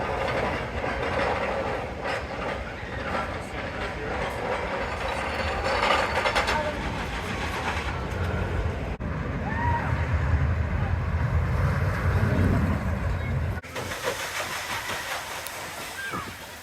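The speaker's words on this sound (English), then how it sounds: "enjoy your ride on Excalibur" Excalibur roller coaster at Valleyfair rumbles and clatters along its track in a continuous loud mechanical roar with hissing and ratcheting, cutting out abruptly near the end; faint riders' voices mix in.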